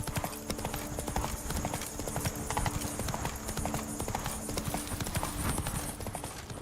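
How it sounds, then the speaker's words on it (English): A horse gallops in the video game Witcher 3: Wild Hunt, its clip-clop hoofbeats loud, close and steadily rhythmic throughout, with a faint voice briefly in the background. "Run, Roach."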